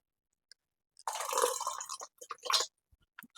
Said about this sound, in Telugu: కొద్దిగా వాటర్ కలుపుతున్నాను